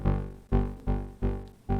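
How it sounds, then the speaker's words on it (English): Korg Volca Kick drum machine sequenced by a KeyStep Pro, playing five deep, booming kick hits in a steady pulse, each swelling loudly and decaying gradually with a resonant low tone, heard alone. "We have also added a Korg Volca kick into our mix."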